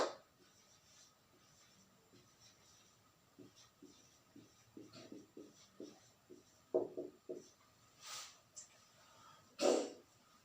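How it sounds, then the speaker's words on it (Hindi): Marker or chalk scratching on a board during a vector lesson, heard as a quiet series of short, rhythmic strokes with occasional breaths and faint sounds of movement, and no speech over it. "यहां मैं लिख डालता हूं, देखो सेकेंड इक्वल वेक्टर्स"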